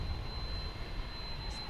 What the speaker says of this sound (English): a Frontier jet is coming into the picture